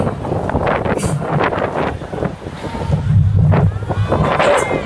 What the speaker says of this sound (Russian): какой же ветер